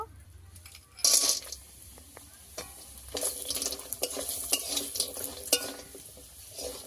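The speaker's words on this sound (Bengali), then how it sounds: "বড়ি ভাজা হয়ে গেছে, তুলে নেব।" Ash gourd lentil dumplings frying in oil in a pan, with a steady sizzle punctuated by sharp clinks and scraping of a utensil stirring against the metal, moderately close and without talk.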